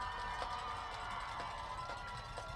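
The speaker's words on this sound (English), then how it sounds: "getting loud out there by the Wildcats crew." A Wildcats homecoming crowd at a college football game against Langston sends up a distant, steady roar with faint cheering, while a commentator talks over it.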